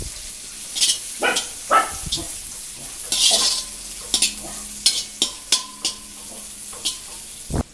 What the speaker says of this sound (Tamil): இதை லைட்டாக வதக்கிக்கலாம்